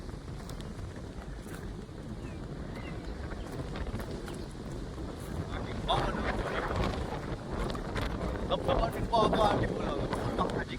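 Strong wind sweeps over a groundnut farm field being irrigated, a loud continuous roar with heavy gusts buffeting the microphone that grow stronger toward the end.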